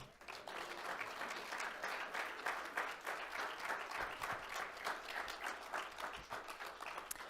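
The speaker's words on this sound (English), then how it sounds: "please join me in a warm round of applause for our newly installed council members" An audience at a Glendale City Council installation ceremony applauds, with dense, continuous clapping from a crowd that holds steady for several seconds in a large room.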